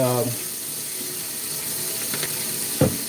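A soapy baking pan is washed in a kitchen sink under a running tap, a steady close water rush with a brief squeak and a knock near the end.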